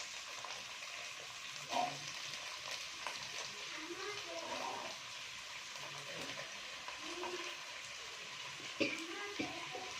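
Beans, carrot, potato and green peas fry in a pan with a faint, steady sizzle and crackle, with brief voice sounds over it.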